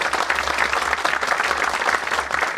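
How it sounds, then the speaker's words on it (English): An audience claps steadily at a talk or presentation, a dense and loud wash of applause with no pause and no voices over it. "Give him a round of applause."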